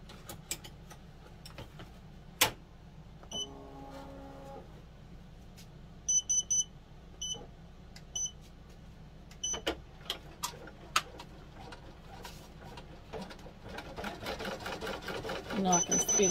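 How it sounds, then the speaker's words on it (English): An in-the-hoop embroidery machine sews satin stitches on a notebook cover: a steady low mechanical hum with rapid ticking, several short electronic beeps midway, and the stitching growing louder and busier toward the end, with a voice talking over it. "Now I'm going to put it back in and let it do the satin stitches."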